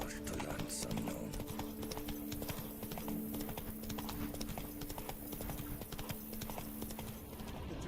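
Roach the horse gallops in The Witcher 3, steady clip-clop hoofbeats running continuously and fairly loud beneath a bed of game ambience.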